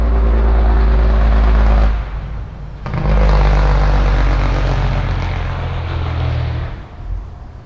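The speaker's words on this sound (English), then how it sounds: "Jake brakes, gotta love them." A truck using Jake brakes passes nearby, a loud throaty engine-braking roar that briefly drops out, resumes and then fades.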